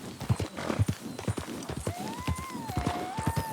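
Hooves of a tiring horse in Red Dead Redemption 2 clip-clop in a steady, close walking rhythm, with a whistling tone rising over the second half.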